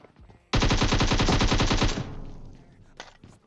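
Rapid automatic gunfire from PUBG Mobile, a loud sustained burst of about a second and a half followed by a decaying echo and a couple of fainter shots, with little talk.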